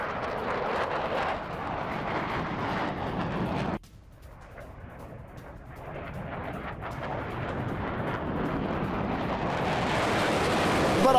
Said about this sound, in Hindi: जर्मनी के फाइटर जेट्स बाल्टिक सी में उड़ान भर रहे हैं।